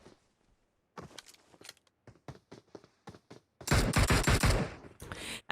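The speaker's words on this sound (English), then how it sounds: "Bacha taking in some damage with that particular Mini 14" Video game gunfire from a Mini 14 rifle: scattered single sharp shots at first, then a dense loud burst of rapid fire near the end, with no voices.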